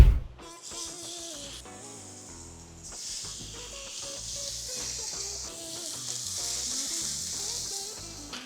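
Ground brisket-trimming beef balls for Oklahoma smashburgers land on a hot griddle and break into a loud, hissing sizzle that swells and holds steady nearby.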